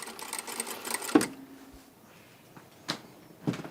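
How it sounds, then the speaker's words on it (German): A sewing machine stitching dirndl skirt pieces together, a brief close rapid whir of the needle followed by a clunk and then quiet handling taps, faint overall. "Nachdem sie die Falten fixiert hat, näht sie die beiden Rockteile zusammen und diese dann ans Oberteil."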